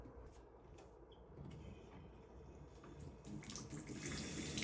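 Water pours steadily from a bathtub faucet, a soft continuous rush that grows slightly louder toward the end as soap is rinsed off a painted drone frame.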